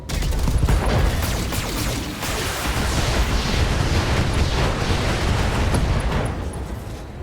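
In the BattleTech mech combat game, weapons fire and explosions roar as a dense, loud barrage of rapid blasts and rumbling booms, unbroken across several seconds with no talk over it.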